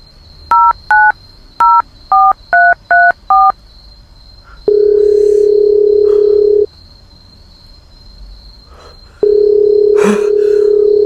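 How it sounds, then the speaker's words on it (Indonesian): A telephone being dialed, with a quick series of keypad tones followed by two long, steady ringback tones separated by a pause, loud and close. "Coba saya telepon istri saya lagi ya."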